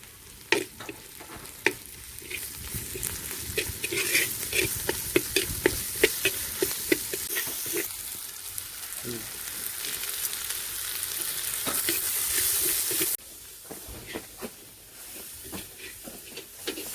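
Onions with ginger garlic paste frying for a country chicken curry, sizzling steadily in the pan while a spoon stirs and scrapes in repeated clattering strokes, close and alone with no voices.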